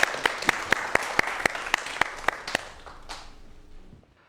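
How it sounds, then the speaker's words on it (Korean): An audience claps for a professor about to lecture on 4D printing at a televised science talk, with a sharp, steady rhythm of loud individual claps that fades into a brief trailing patter and room noise. "박수 한번 부탁드릴게요"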